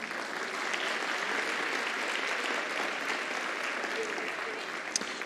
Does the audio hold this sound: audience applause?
yes